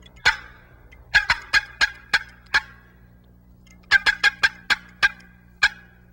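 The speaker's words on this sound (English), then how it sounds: "It's a good locator call." A loud, sharp turkey locator call sounds in two bursts of rapid piercing notes, about six in each, with a brief pause between.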